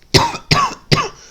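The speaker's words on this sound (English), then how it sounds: "Still can't shake this cough." A man coughs three times in a row, evenly spaced, each a sharp loud burst with a short raspy tail, close to the microphone with no talking.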